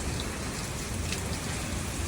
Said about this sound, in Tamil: மழையில் நினையக்கூடாது